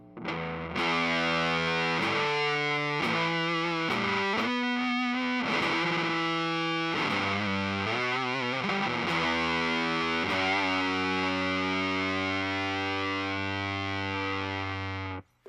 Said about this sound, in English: With the drive at max, you're getting this really cool sound that I like in fuzz pedals